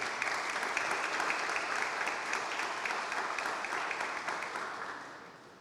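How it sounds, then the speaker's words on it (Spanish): Loud, sustained applause from an audience at the inauguration of a historical exhibition, a dense wash of clapping that fades slightly toward the end. "Un aplauso para ella."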